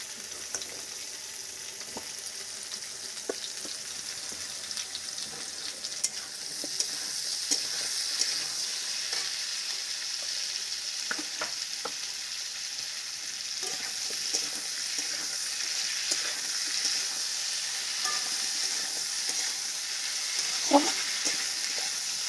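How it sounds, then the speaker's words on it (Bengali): Potatoes sizzle in hot oil in a pan, with a continuous soft crackling hiss and scattered clicks and scrapes of stirring, close by and without speech. "এই যে আলুগুলো ভাজা হয়ে গেছে"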